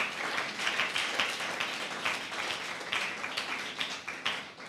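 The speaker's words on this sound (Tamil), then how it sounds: "கைத்தட்டி ஆண்டவருக்கு மகிமை செலுத்தலாம்." A congregation clapping together during a church service, dense and steady rhythmic applause from many hands that fills the room.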